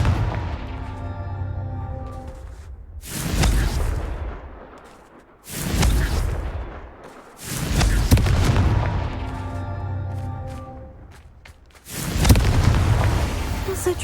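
Booming magical blasts from the Confringo spell in Hogwarts Legacy, four or five heavy explosions spaced a few seconds apart, each swelling and decaying over a low game soundtrack.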